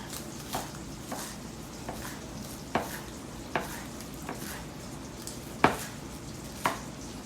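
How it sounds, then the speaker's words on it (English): A knife chops onions into small chunks on a cutting board, with soft scattered taps and a few sharper knocks at an uneven pace over a low background of cooking noise. "I'm just gonna cut them up just a little bit. Well, actually, I'm gonna cut the whole deal up. Pretty small chunks all the way."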